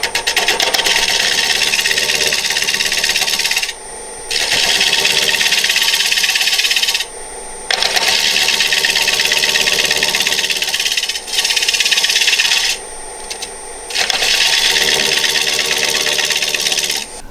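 A bowl gouge cuts a wooden bowl spinning on a lathe, a loud, steady hiss and rasp in long passes broken by short pauses as the tool lifts away, close by with no talk.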